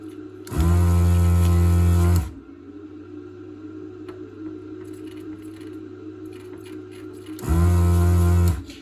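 A Xtreme 5365 vacuum desoldering gun works on a 486 SX33 retro computer board, its pump kicking in twice with a loud, steady humming buzz, once for about two seconds and again briefly later, over a faint background hum.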